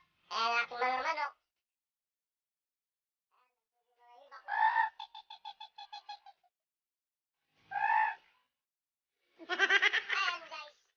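Chickens in a provincial backyard give four separate bursts of harsh, harmonic calls, including a crow-like cry and a rapid stuttering cackle, close and fairly quiet, with silent gaps between them.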